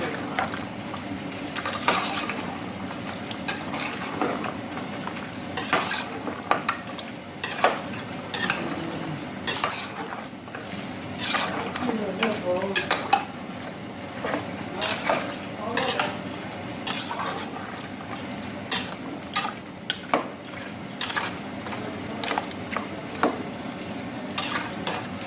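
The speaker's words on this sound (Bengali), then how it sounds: "অর্ধেক দেওয়ার পর আপনি এটা ভালো করে মিক্স করে নেবেন।" Beef being stirred with ground spice mix in a pot for a spiced beef bhuna, with repeated spoon scrapes and clinks against the metal and a faint sizzle underneath, continuing steadily throughout.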